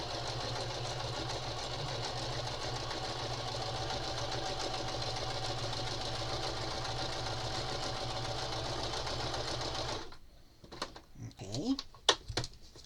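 A domestic sewing machine running steadily as it straight-stitches a needle book cover, with a constant mechanical hum and rapid needle rattle for about ten seconds, then stopping into a few handling knocks and clicks.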